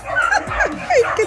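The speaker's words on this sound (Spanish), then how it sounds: "disculpen los ruidos exteriores, ahí esos son los perritos del barrio" Neighborhood dogs outside yipping and whimpering in short high cries, fairly close, with a voice speaking underneath.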